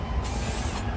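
Parts cleaner hisses from an aerosol can onto the front brake area of a 2011-2016 Hyundai Elantra, one short, close spray burst lasting about half a second.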